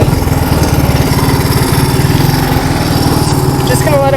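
A Honda three-wheeler, just fitted with a new carburetor, runs at a steady, loud idle up close, its rapid even putter continuing without a break.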